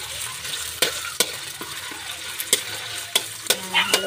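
Sardines frying in a pan for pancit bihon, with a continuous sizzle broken by repeated sharp clacks and scrapes of a spatula as the food is stirred, close up.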